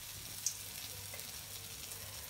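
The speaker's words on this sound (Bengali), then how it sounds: "এই যে ডালের বড়াটা বানাইতেছি ছোট ছোট করে" Small lentil fritters fry in a wok of hot oil with a quiet, steady sizzle that hisses evenly throughout, with no voices present.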